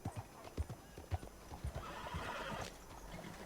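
Horse hooves clip-clop in a steady rhythm, then a horse neighs loudly in Red Dead Redemption 2, the whinny rising over the hoofbeats near the end.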